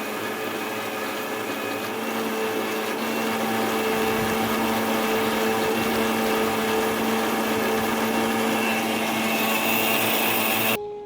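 A mixer grinder grinds poppy seeds with salt and oil, running as a continuous loud whirring drone with a steady motor hum for about ten seconds before cutting off.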